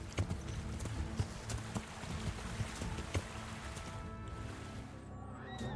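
Horse hooves clip-clop in a steady rhythmic walk in the medieval video game Kingdom Come: Deliverance, moderately close over a faint ambient bed, with no talking.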